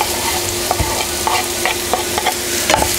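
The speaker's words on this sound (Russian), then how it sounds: "Все мы хорошо перемешиваем." Champignon mushrooms and ham being stirred in a frying pan: a steady sizzle broken by repeated scraping clicks of the spoon against the pan, close and fairly loud, with no voices.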